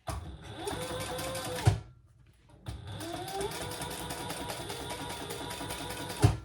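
A sewing machine top stitches a crossbody bag seam in two steady bursts of rapid mechanical chatter, stopping briefly between them with a clunk at the end of each run, close and clear.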